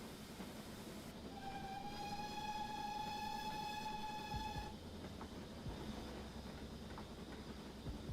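A train in the Train Sim Classic game running the Buchan Line from Aberdeen to Peterhead sounds a long steady horn over the continuous rumble and rattle of wheels on rails, then rolls on.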